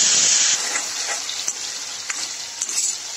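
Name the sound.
ginger-garlic paste frying with cumin and butter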